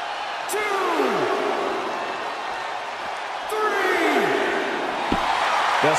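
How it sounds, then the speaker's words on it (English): A huge WWE wrestling crowd roars and cheers continuously at Extreme Rules, a loud sustained wall of noise that swells further, with descending whistle-like squeals cutting through twice. "sound of this crowd is deafening, and he's asking for more"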